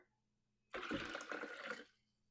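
Water is poured into Haitian pikliz slaw in a single steady stream lasting just over a second, then quickly trails off into quiet.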